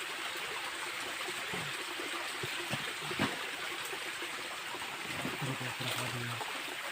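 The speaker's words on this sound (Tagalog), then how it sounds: "Sapa na yan guys, oh." A creek flows with a continuous soft rushing and trickling, moderately close, with brief murmurs and small splashes over the water.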